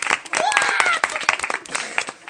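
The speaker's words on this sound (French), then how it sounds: "on peut l'applaudir" TV game show studio audience applauding and cheering, a short burst of dense clapping with whoops, a host's voice over it.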